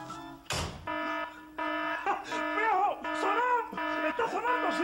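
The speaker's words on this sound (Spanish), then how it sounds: "la alarma sonó cuando yo cerré la puerta" A household burglar alarm sounds repeatedly in a comedy sketch setting, a loud pulsing electronic tone in steady on-off bursts, with voices speaking over and between the beeps.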